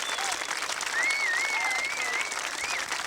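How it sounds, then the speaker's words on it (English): A crowd applauds at a 1990 Malvern Hills bicycle high-jump contest, steady clapping filling about three seconds with a faint whistle rising over it, no talk. "the crowd applauds a worthy sportsman"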